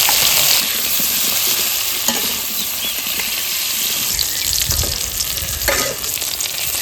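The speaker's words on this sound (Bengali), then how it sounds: "এবার আমি কারকোলটা ভেজে নিচ্ছি" Pieces of kakrol (spiny gourd) hiss and crackle in hot oil with salt and turmeric, close up, while occasional stirring scrapes and clinks of a spatula break through the steady sizzle.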